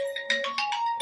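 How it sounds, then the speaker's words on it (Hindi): A mobile phone ringtone plays a short, bright melodic phrase of quick repeated notes, close and clear with no talking over it. "मेरा फोन बज रहा है"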